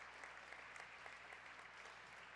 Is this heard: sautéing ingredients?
no